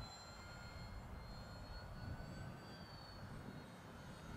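Distant drone of an E-flite EC-1500 Twin, a 1.5 m twin-motor RC cargo model airplane, in flight, a faint steady whine with a thin tonal hum held throughout and no talking.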